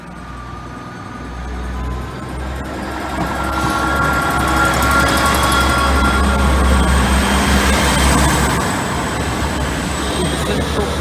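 A train on the East Coast Main Line diversion through Lincoln rumbles past nearby, a steady low roar swelling after the first couple of seconds and holding loud to the end, with faint talk underneath.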